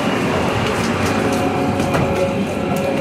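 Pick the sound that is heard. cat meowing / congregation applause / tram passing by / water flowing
tram passing by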